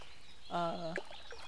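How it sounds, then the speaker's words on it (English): A chicken in World of Warcraft gives one short clucking call with harmonic, slightly nasal tone, close and moderately loud, followed by a brief chirp before quiet returns. "Chicken."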